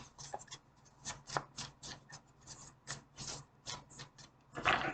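A deck of tarot cards is shuffled by hand in a quiet room, producing a series of short papery riffling bursts in an irregular rhythm, close to the microphone with no talk.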